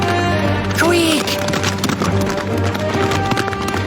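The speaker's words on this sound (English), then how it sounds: "It's not every day he makes me run after a horse." Hooves of a galloping horse clatter in a quick, steady rhythm across an animated Western cartoon scene, mixed with a busy music score throughout.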